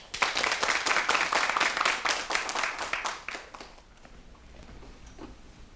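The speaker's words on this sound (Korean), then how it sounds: "박수로 청해 듣겠습니다." Studio audience applauding at a Korean television storytelling show before a horror story, dense steady clapping that fills the first few seconds, then fades to quiet room tone.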